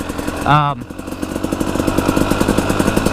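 Dual-sport motorcycle ridden off-road through mud, its engine putting out a steady, rough mid-pitched drone with a rhythmic pulsing throughout, after a brief tonal whine near the start; someone talks over it.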